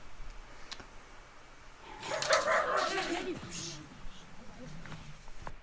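A dog whimpers and makes soft yips close by for a couple of seconds in the middle, with quiet room noise around it.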